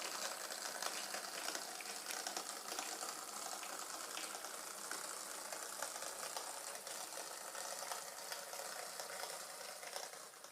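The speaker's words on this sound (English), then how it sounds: "There's City of Manchester, crawling along with its age-old Lemur motor, 3-pole Ringfield motor." A Hornby Class 87 model locomotive, City of Manchester, with an old three-pole Ringfield motor, crawls along a track, giving a steady whirring, buzzing mechanical drone with fine rattly texture that stays constant throughout.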